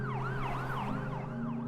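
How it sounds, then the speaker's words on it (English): Ambulance siren wailing in a steady, repeating rising-and-falling sweep, loud and close, with a low vehicle engine rumble underneath and no talk. "they put her in the back of the ambulance"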